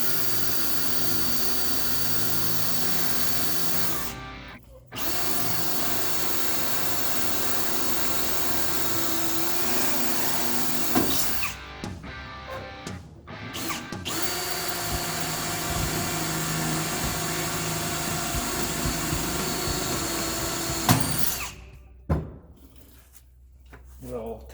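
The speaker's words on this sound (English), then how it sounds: "We'll just make the marks to drill a hole, and we'll drill them in there." Holes are drilled into a fabricated storage door on a 2001 Freightliner bus, a loud continuous power-tool drone running for long stretches and broken by a few brief stops.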